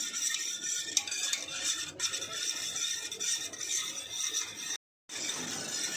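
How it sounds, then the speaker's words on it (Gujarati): Milk for an almond shake is stirred in a pot with steady, continuous scraping and swishing throughout, broken by a brief silent gap near the end, with no voices. "તેને આ રીતે હલાવી કાઢીશું આપણે"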